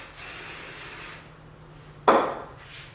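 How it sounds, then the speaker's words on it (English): Kenra Volume Super Hold hairspray sprayed from a can in one steady hiss lasting about a second, followed by a brief rustle close by. "my absolute favorite, the Kenra Volume Super Hold Spray in 25"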